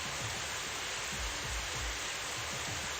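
Ceiling sprinklers spray water indoors in the video game Super Danganronpa Another 2, a loud, steady, dense hiss like heavy rain filling the whole space with low rumbling pulses beneath.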